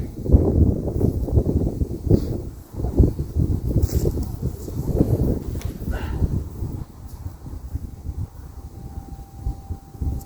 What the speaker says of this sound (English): Sorry if the wind's picking up